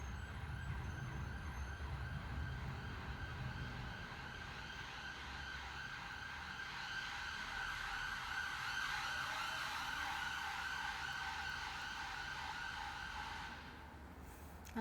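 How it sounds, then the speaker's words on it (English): Emergency vehicle siren wailing steadily outdoors during a beginner yoga session, a continuous rising-and-falling tone held for about fourteen seconds under low traffic rumble, then cutting off abruptly at the end. "The siren's over."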